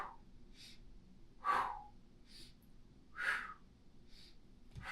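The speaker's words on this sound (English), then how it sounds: "Inhale, exhale. Inhale, exhale." Someone doing mat Pilates breathes in a steady rhythm, with soft inhales and two stronger airy exhales that rise clearly above a quiet room.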